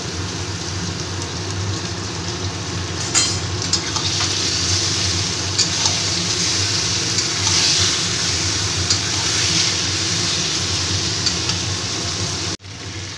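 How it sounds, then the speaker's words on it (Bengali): Chicken pieces rubbed with salt and turmeric fry with onions in a pan for a potato chicken curry, a loud steady sizzle with scattered pops and stirring scrapes, ending in an abrupt clatter. "এবার আমি নুন হলুদ মাখানো মাংসগুলো দিয়ে দিচ্ছি। দিয়ে পেঁয়াজের সাথে আমি এটাকে ভেজে নেব।"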